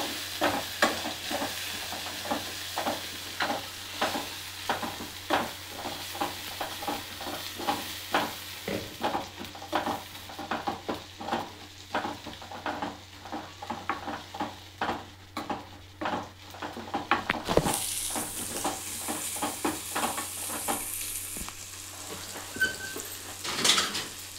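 Turmeric frying in a pan of oil for Telugu egg pulusu, with repeated scraping stirs over a steady low sizzle; the sizzle brightens and grows louder toward the end.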